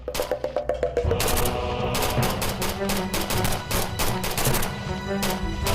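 Gunfire in a Turkish TV drama, first a few separate shots and then sustained rapid bursts of automatic fire, loud and close, with brief shouted voices mixed in.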